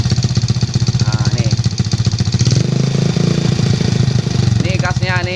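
Yamaha Vega/Jupiter motorcycle engine running up close with a steady pulsing idle that rises into revs, a voice talking over it throughout.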